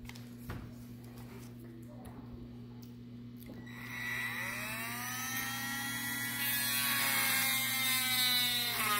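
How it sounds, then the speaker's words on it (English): A Milwaukee rotary tool bores holes through cedar berry seeds held in pliers, a thin high whine that starts faint and rises in pitch and loudness as the speed climbs. "Got my Milwaukee Dremel bit."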